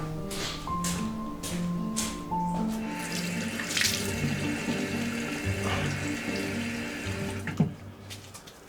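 Water runs from a tap for washing up, a steady close hiss and splash with intermittent clinks and soft knocks of dishes, no talking.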